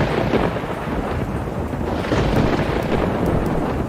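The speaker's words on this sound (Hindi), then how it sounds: "एक दिन जंगल में बहुत बारिश हो रही थी।" Cartoon thunderstorm with heavy rain in a jungle: dense, steady downpour hissing throughout, with low rolling thunder rumbling underneath, loud and continuous without any voices.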